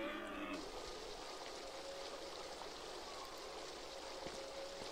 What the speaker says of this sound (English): Well, water is pouring great.